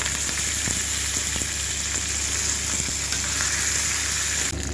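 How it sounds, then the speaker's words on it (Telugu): Fenugreek seeds and curry leaves fry in hot oil as a tempering for amla dal, giving a steady, close, dense sizzle that runs unbroken throughout with no voices. "మెంతులు బాగా ఫ్రై అవ్వాలండి"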